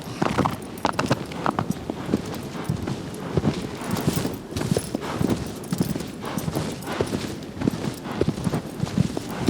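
Aggro, the horse in the Shadow of the Colossus video game, galloping with rapid, rhythmic hoof clip-clops, loud and close and continuous over rough ground with no talk.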